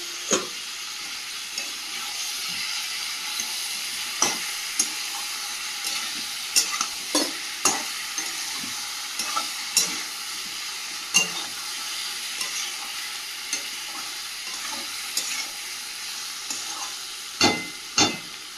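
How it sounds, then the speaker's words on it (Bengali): Meat stir-fried with pre-fried potatoes in a pan over low gas, a constant sizzle broken by repeated scraping and clanking strokes of a spatula, close and unbroken, no talking. "গ্যাসটা কমিয়ে রেখে মাংসটা কষিয়ে নেব।"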